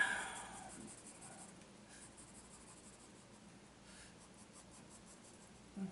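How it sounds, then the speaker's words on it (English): An 8B pencil shades across drawing paper with a soft, steady scratchy scraping, faint and close, continuing for several seconds. "Here comes the shadowing. I always save the last pencil for last. The 8B pencil."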